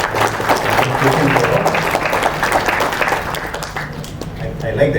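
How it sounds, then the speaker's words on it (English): Children clap enthusiastically at a New Year hospital gathering, a loud, steady patter of applause that slowly fades, with voices mixed in beneath it. "they were so happy to clap, so happy to clap"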